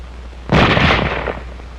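A single loud report from an automatic firearm bursts out suddenly after a short quiet stretch, then decays over about a second into a rumbling tail.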